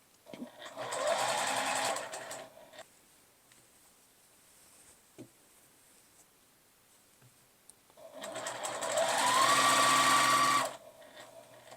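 A sewing machine stitches a straight line through slippery, flouncy scarf fabric: two steady buzzing whirring runs of about three seconds each, separated by a quiet pause with small handling clicks, close by.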